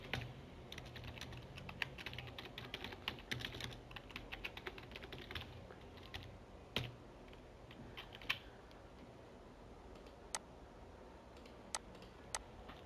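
Java code being typed on a computer keyboard, quiet rapid key clicks in uneven bursts that thin out into sparse single taps, close but soft, no talking.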